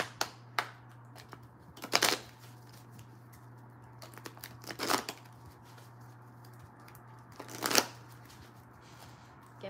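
Tarot cards being shuffled during a reading, a few distinct riffling bursts separated by quieter handling and soft rustling, close and moderately loud with no talking.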